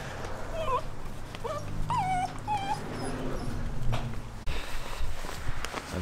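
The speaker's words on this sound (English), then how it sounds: "I've got puppies chewing the camera strap." Eight-week-old German wirehaired pointer puppies gnaw on a camera strap close by, with high whimpering yips and scuffling paws over steady soft rustling.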